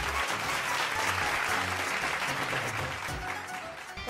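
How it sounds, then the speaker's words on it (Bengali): Studio audience applause on a television show set, a dense, steady burst of clapping lasting a few seconds at moderate volume, with no talk over it. "জোরে হাততালি, আসুন দেখে নি।"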